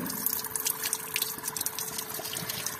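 A 12V DC solar-powered water pump pushes water through a flexible transparent pipe, producing continuous close trickling and dripping with a light splashy hiss over a faint mechanical hum.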